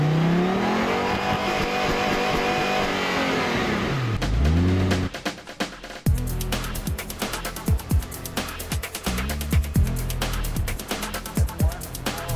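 High-revving engines of an Audi R8 Spider and a Renault single-seater race car at the Bacău 2012 auto show: a sustained howl that dips and climbs, then sharp repeated blips of the throttle, loud and close, with music and narration over it.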